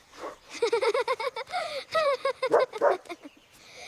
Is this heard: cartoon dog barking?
yes